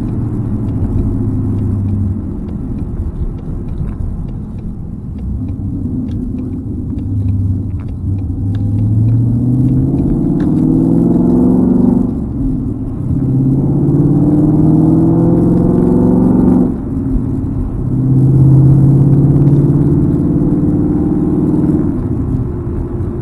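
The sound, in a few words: loud Ford Mustang exhaust rumbling while driving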